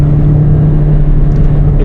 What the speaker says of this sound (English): Still some noise from the tires